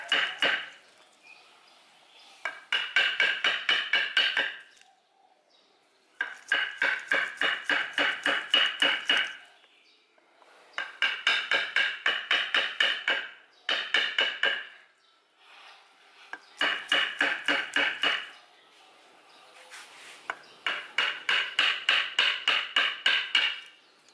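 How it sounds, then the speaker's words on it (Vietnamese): Rapid bursts of tapping and scraping as a chisel works into wood, in several runs of quick strokes separated by short pauses. "Chỗ nào mà nó khó cưa, khó cắt thì ta dùng đục."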